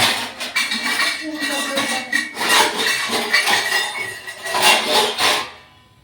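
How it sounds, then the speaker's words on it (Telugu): A kadai pan is set on the stove amid clinking dishes: a close run of metallic clanks, scrapes and light chinks that come in uneven bursts, then fade at the end. "గిన్నెలో వేసి కళాయి పెట్టుకుంటాను"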